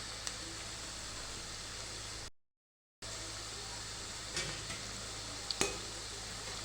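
Spinach pakoras fry in hot oil, a steady soft sizzle and crackle heard close with a brief gap of silence and a few small pops near the end.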